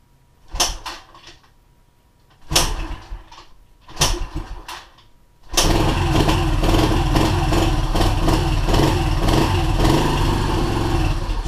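A cold Yamaha TTR125 motorcycle engine with the choke off is kicked over several times in separate bursts, then catches and settles into a steady, loud, close idle for the rest of the clip.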